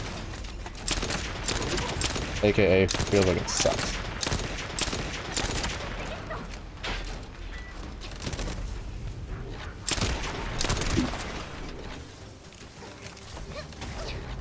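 Hand cannon shots ring out in a first-person shooter game, repeated sharp cracks in irregular bursts layered over other combat noise, while a player talks briefly.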